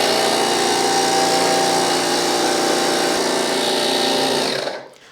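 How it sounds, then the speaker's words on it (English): A portable air compressor powered from a portable power station hums and buzzes steadily at close range, a loud continuous whine that cuts off abruptly at the end. "I can connect this air compressor."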